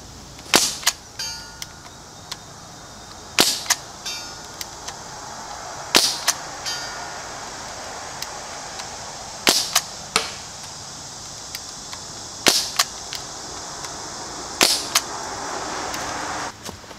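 A Crosman 1077 CO2 air rifle, running on very low CO2, fires pellets at bottles 50 yards away: six sharp, snappy reports spaced a few seconds apart over quiet outdoor background.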